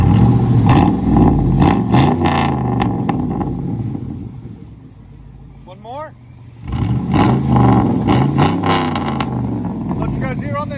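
A 2006 Chevy Tahoe with a 5.3L V8 and true dual straight-pipe exhaust, revving loudly in two bursts with a quieter idle between them, heard up close outdoors while people talk.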